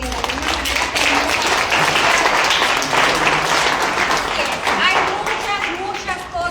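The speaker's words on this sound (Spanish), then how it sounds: "Un aplauso para los que de alguna manera" A crowd applauds steadily for several seconds, dense clapping filling the room with voices mixed in.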